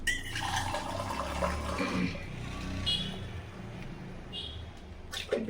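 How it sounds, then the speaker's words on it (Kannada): Water is poured into a pot of okra sambar, giving a faint, soft splashing trickle that lasts a few seconds amid quiet kitchen background noise. "ಇನ್ನೊಂದು ಸ್ವಲ್ಪ ನೀರು ಹಾಕೋಣ."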